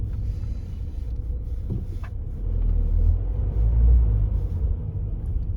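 Road traffic rolls past nearby, a steady low rumble of car engines and tyres that swells louder around the middle and stays heavy to the end, with no voices.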